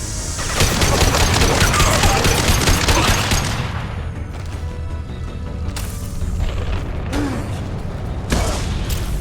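A heavy weapon fires in a Mass Effect battle aboard a Collector ship, with a dense, loud rattling barrage for several seconds, then sparse sharp booms and mechanical clanks.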